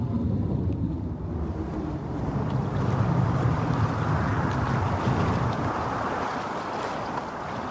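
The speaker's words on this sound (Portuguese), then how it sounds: "Apesar dos pedidos de Ulisses, os deuses enviaram uma ventania que os afastou." A gale blowing at sea in an animated film about Ulysses, a loud, continuous roar of wind and rushing water with gusty swells and no voices.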